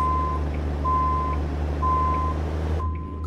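A heavy truck backing up a trailer in American Truck Simulator sends out loud, evenly spaced reversing beeps over a constant low diesel engine rumble.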